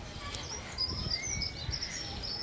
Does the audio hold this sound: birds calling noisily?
yes